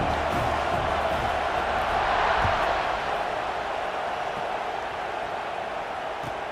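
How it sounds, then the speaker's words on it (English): A large stadium crowd at a Texas A&M at Nebraska college football game buzzes with a steady, moderately distant roar of voices and scattered cheers that swells briefly and then settles. "this crowd is buzzing after that last score"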